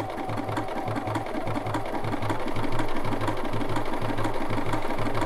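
A Bernina sewing machine fitted with a buttonhole foot hums and chatters in a steady rhythmic stitching pattern throughout, at moderate loudness with a faint underlying mechanical thrum.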